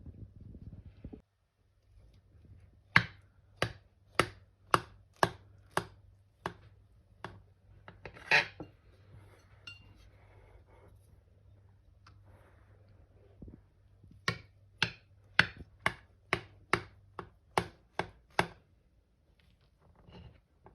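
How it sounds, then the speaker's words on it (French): A knife cuts into a soft, fluffy strawberry cake with quiet, sharp, rhythmic strokes. They come in two runs of quick repeated scrapes with a pause between, and no one talks. "Je vais couper un morceau."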